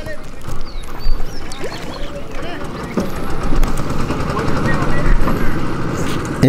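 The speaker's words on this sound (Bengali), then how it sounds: "এই যে এটা নৌকা, ডিঙি নৌকা, স্যালো মেশিনের নৌকাটা, এটা এখন ওই পার যাইতেছে।" A wooden dinghy ferry boat driven by a shallow pump engine crosses a river at Savar, Dhaka, its engine a low, rough, chugging drone under steady nearby talk and outdoor background noise.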